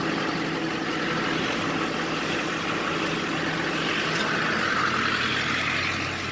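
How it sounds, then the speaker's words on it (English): A vehicle engine runs steadily at low revs, close and continuous, as the car is driven slowly around and over a tire to break its bead without a tire machine. "Just going to drive around it a little bit more and then we'll watch the bead break"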